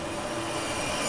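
A train bound for Daejeon, South Korea, rolls along with a steady, close rumble and rail noise, carrying on evenly and without voices for the whole short stretch.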